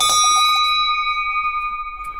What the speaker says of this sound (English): Hold on, let me ring this bell.